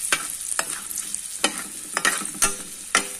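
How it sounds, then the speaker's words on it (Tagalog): Bacon frying in oil until crunchy, hissing in a steady sizzle broken by sharp stirring scrapes and pops about every half second, close to the pan, with no voices. "I-fry lang siya guys hanggang maging crunchy ang bacon."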